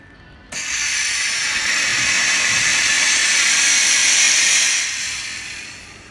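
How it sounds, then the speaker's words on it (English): A steam cleaner, connected by a fitting to a wine barrel tank, releases a loud, steady hiss of steam that starts abruptly, holds for several seconds, then eases off slightly toward the end. "We turn the steam on."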